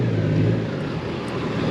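Car engine rumbling steadily at close range during off-road driving as the car climbs up onto a sidewalk curb, a continuous low drone with no speech.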